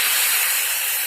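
Cold water hits a hot pot on the stove for collard greens, giving one loud, steady burst of sizzling steam hiss, close and uninterrupted with no voices.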